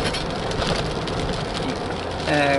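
Rain falls outside onto a wet, oily road after weeks of sunshine, a steady broadband wash mixed with a low engine-like rumble from inside a vehicle, with a brief tonal sound near the end.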